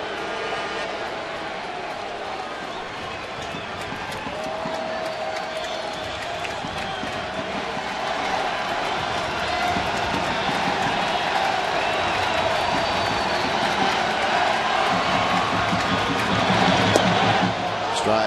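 A vocal baseball stadium crowd of about 21,000 at an Oakland night game against Detroit, a steady roar of voices and cheering that swells slightly toward the end, with a commentator talking over it.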